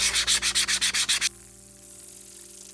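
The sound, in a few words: filing rough surface of shoe sole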